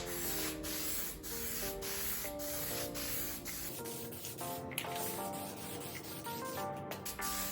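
Close, steady hiss of spray paint laying a second coat on an old RC car body, with brief breaks and rattles between passes; no voices.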